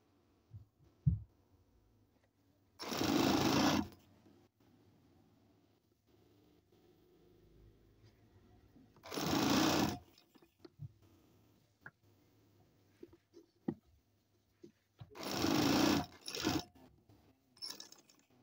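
Sewing machine running double stitching along a garment sleeve, three separate loud bursts of rapid whirring, each lasting about a second, with quiet handling and small clicks between them.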